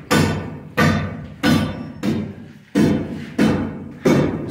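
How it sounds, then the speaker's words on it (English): A floor being chipped away on a house construction site in the Philippines, seven evenly spaced heavy thuds each fading quickly, recorded close with no speech. "is chipping away the floor"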